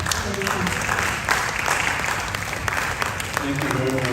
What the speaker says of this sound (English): A round of applause for Dr. Amachi.